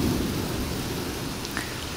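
Thunderstorm over McKinney with heavy rain hissing loudly and a low rolling rumble of thunder underneath, steady and close throughout.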